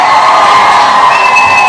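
An audience cheers and whoops loudly in a short, dense burst, crowd voices blending into a continuous roar.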